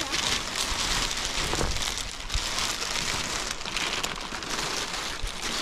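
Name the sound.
rain falling on a surface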